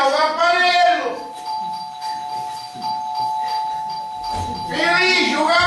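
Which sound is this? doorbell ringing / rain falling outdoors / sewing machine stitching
doorbell ringing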